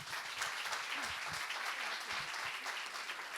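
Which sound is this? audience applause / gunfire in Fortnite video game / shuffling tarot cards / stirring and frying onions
audience applause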